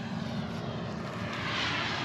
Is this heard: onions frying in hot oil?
no